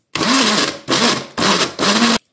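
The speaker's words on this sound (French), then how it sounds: "je viens mixer ma farce" A kitchen blender pulses four times while mixing a fish stuffing, each burst a loud, close motor whir lasting about half a second, separated by short silences.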